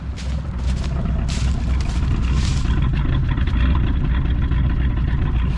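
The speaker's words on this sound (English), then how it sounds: "Listen to that car run." A 1965 Mercury Montclair Breezeway V8 running again after sixteen years idle, a steady loud engine idle with a rough, slightly skipping rumble, close by and without speech.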